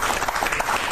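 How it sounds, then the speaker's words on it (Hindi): Brief applause from an audience on a studio news program, a short burst of clapping at moderate level. "तालियां, तालियां।"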